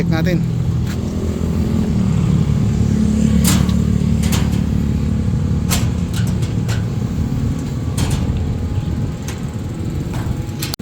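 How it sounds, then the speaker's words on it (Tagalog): A 4BC2 diesel engine runs steadily throughout at close range, a continuous low rumble with occasional sharper clatter over it and people talking nearby. "So ito is 4BC2 naman ang makina."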